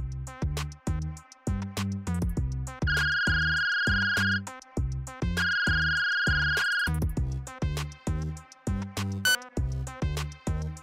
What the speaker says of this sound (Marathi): नुकताच त्यांच्या फोनवर एका अननोन नंबरवरून फोन आला होता